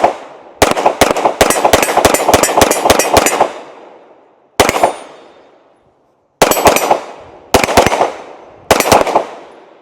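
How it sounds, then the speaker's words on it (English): A pistol fitted with a Radian Ramjet being racked off the back of a shoe from one knee: a rapid series of sharp metallic clacks and snaps in quick bursts, loud and close, with short pauses between groups. "go to one knee, turn around, rack it off the back of your shoe, come back up"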